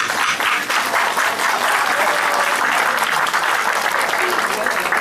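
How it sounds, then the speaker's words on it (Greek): A crowd applauds loudly at the opening of a zoo in Lerin, sustained close clapping filling the whole stretch with a faint voice mixed in. "σας παρακαλώ ένα μεγάλο χειροκρότημα για αυτό το αποτέλεσμα"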